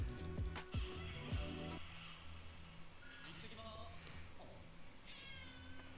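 A cat meows in an anime basketball episode, with a few short meows standing out over background music and voices, moderately loud throughout.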